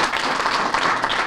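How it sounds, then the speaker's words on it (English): Audience applause at a business accelerator graduation ceremony, a brief, dense wash of many hands clapping at once, steady and fairly loud. "if we could all give them a round of applause."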